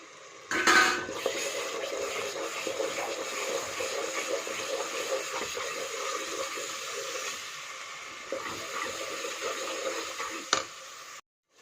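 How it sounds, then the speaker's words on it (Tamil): A spoon stirs and scrapes ground paste into an anchovy (nethili) fish curry in a pan, a continuous wet mixing with light clinks of metal, and a louder knock near the start and another near the end. "இப்போது அரைச்சி வச்ச பேஸ்ட்டை போட்டு அரைச்சி வச்ச பேஸ்ட்டை நல்லா கலந்துக்கலாம்."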